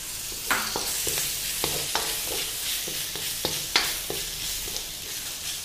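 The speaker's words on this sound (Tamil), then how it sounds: "தக்காளி ஆட் பண்ணிவிட்டு ரொம்ப மேஷ் பண்ண தேவையில்லை, ஜஸ்ட் கொஞ்ச நேரம் நீங்கள் வதங்கினாலே போதும்." Tomatoes sautéing with onions and ginger garlic paste in a pan for prawn kurma, a steady close sizzle with repeated scraping stirs of a spoon, no voices.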